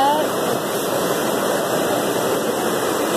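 Water of the Trevi Fountain in Rome rushes in a steady, loud, broadband wash that fills the scene without pause, with a brief voice faintly audible at the very start.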